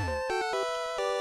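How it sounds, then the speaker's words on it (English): The Metronome move sound effect from the Pokemon Yellow video game, a quick burst of bright chiptune beeps and short pulsing notes lasting about a second. "That's the sound of a Metronome!"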